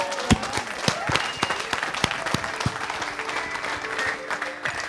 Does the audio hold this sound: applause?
yes